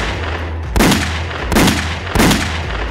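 Three heavy gunshots from a Magnum .357 revolver ring out in an audio story, loud booming blasts spaced roughly 0.8 seconds apart over a low droning background, with no talk.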